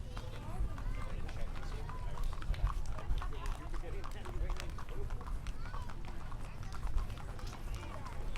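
Horses clip-clop along a county fair parade route in Elk River, their hoofbeats soft and steady beneath continuous crowd chatter and nearby talking.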